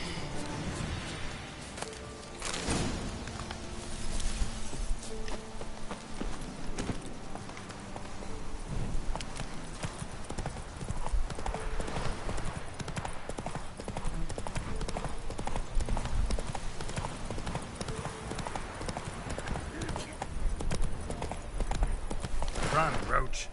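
Horse hooves clip-clop steadily through the Witcher 3 game world, a continuous rhythmic galloping beat under game music, with voices speaking at times.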